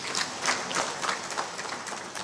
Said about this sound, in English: He deserves a bigger round of applause